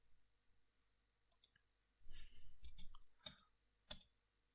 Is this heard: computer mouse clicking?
yes